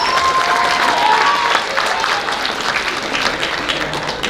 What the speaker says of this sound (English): Give these young ladies a round of applause